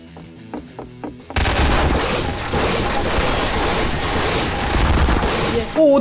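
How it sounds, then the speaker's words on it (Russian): Gunfire in Garry's Mod with a FNAF Security Breach setting: after a quieter opening with scattered tones, loud sustained rapid automatic fire erupts and continues almost without pause to the end. "Вы прекращайте так стрелять"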